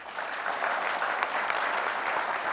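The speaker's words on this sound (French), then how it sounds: "nous leur devons des applaudissements nourris" A studio audience at a televised youth entrepreneurship pitch competition in Burkina Faso gives steady, full applause, dense and even throughout.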